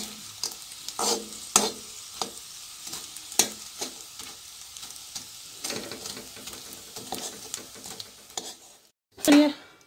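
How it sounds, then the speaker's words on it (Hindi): Chickpeas and almonds fry in a pan, giving a steady sizzle broken by repeated scraping stir strokes and clinks, with a louder clatter near the end; no voice. "बस इसको थोड़ा सा तल लेना है ताकि इसका क्रंची टेस्ट आ जाए"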